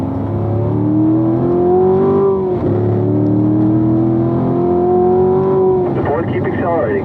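A race car at Spring Mountain accelerates out of a left-hand corner, its engine note climbing steadily and loud up close before a brief dip and another rising pull, with a voice heard over the engine.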